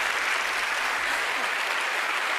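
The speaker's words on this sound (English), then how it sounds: "everyone please give a big round of applause for Allison" A theater audience applauds a volunteer coming up on stage, a dense, even wash of clapping that holds steady throughout.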